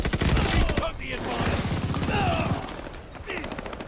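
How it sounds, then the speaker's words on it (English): MG42 machine gun in Call of Duty Vanguard, rapid bursts of automatic gunfire in dense volleys, loud and close, with a brief gap between strings of shots. "Oh, that's the bloody MG42, I think. That thing is pelting me."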